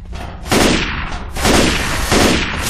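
Shotgun blasts in the game Left 4 GoldenEye, three loud booming shots in quick succession, each with a long rumbling decay, close and alone with no talk.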